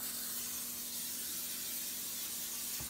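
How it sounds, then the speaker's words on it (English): A steady, close aerosol hiss of cooking spray onto a glass pan runs the whole time, a continuous spray with no pauses or voices over it. "I'm just going to spray it on the surface of my"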